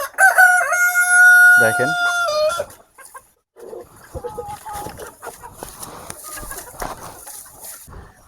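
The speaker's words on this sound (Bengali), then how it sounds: "এই হলো আমাদের দেশি মুরগি" Native farm chickens fill the air with a loud, close rooster crow lasting a couple of seconds, followed by scattered clucking and soft farmyard noise while a person speaks briefly.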